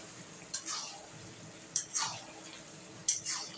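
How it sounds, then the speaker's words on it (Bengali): Three short, quiet scraping stirs sound at spaced intervals as a mixed curry of eleven vegetables is turned over in a pan, each stroke trailing off into a soft hiss. "এবার একটু মিশিয়ে দেবো।"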